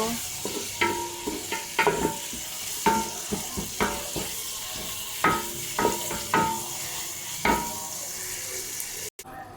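Onions fry in hot oil in a pot for biryani, a continuous sizzling hiss punctuated by distinct rhythmic clacks and scrapes of a stirring utensil against the pot every second or so, ending with a brief dropout.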